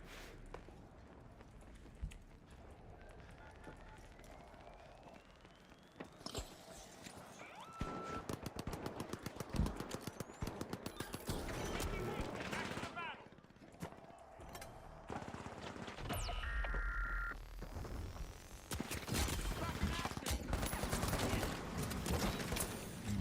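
A deployed automated turret in the shooter The Finals rattles out repeated bursts of machine-gun fire, loud clattering volleys spread through the stretch alongside footsteps and other game noise, with no talk.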